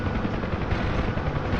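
Huey helicopter rotor in a video game, a steady dense thrum of blades and engine droning loud and continuous with no pauses, heard from inside the cabin near the open door gunner position.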